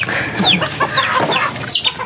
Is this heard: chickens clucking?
yes